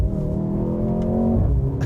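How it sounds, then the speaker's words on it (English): A Mercedes-AMG GLC 43 SUV emits a loud, close engine and exhaust drone with a steady rumbling tone. It runs for about two seconds with a slight shift near the end, and no separate pops stand out. "also has the nice pops and crackles from the exhaust"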